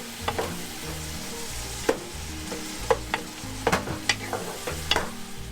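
Dinuguan, a Filipino blood stew with bottle gourd, bubbles in a pot while a spoon scrapes and knocks against the sides in irregular clinks over a steady simmering sizzle.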